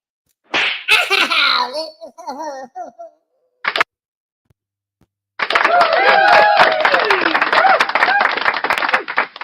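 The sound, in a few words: clapping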